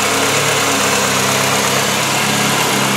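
A Chevrolet Cavalier's engine idles steadily up close after a brake booster hose is released, a continuous mid-low hum with a faint rattle that holds loud and even, with no talking.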